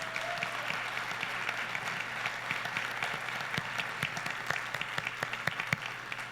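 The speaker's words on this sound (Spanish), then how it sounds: "Y yo quisiera que le den un aplauso a las mujeres que tienen acá." A church congregation applauds in a steady, dense stretch of clapping with crisp individual claps standing out, moderately loud and sustained throughout.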